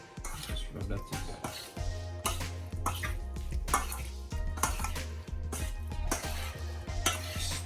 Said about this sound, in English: Stir it properly guys, make sure you're seasoning on those prawns, on those shrimp properly